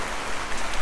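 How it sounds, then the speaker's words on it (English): Heavy rain pours down during a stop on a Mongolia road trip, a dense, loud, continuous patter in a brief burst. "It started raining like crazy."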